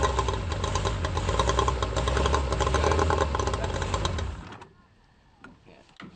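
A cold outboard motor on a small racing dinghy revs loudly up close for about four seconds, then drops away sharply into near quiet with a few faint knocks.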